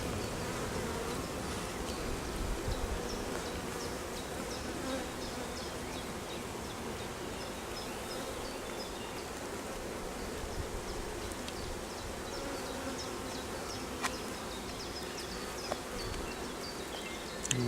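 Honeybees swarm around an open hive in the Bois de l'Offlarde woods, a dense, even buzzing that fills the whole stretch with individual bees darting close now and then.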